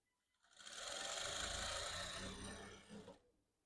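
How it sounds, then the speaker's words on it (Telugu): Sewing machine stitching fabric from an old saree into a long frock, a steady continuous whirring run of about two and a half seconds that starts and stops cleanly, close and loud with no talking. "ఇవి చివరిని ఇదిగోండి ఈ విధంగా రబ్ చేసుకొని చివరి వరకు కుట్టు వేసేసుకుంటే సరిపోతుంది"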